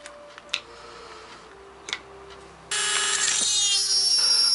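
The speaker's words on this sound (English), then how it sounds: "So I'm just going to drill a little hole through here." A small power drill starts up and runs steadily with a high whine, drilling a small hole through metal after a few faint taps and clicks, close by.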